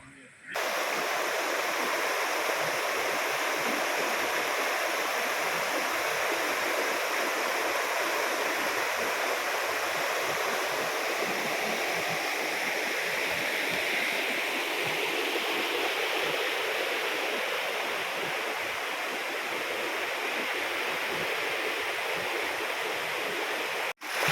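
Waterfall at Ayyanarkovil near Rajapalayam, flowing low on water: a steady broad rush of falling water, loud and continuous, with people audible talking faintly underneath.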